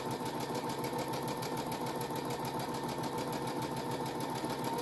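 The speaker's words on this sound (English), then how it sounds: "So I'll take a couple little back stitches and then just keep on going." A sewing machine stitches fabric for a face mask, a fast continuous mechanical whir and chatter that runs steadily throughout at close range, no speech over it.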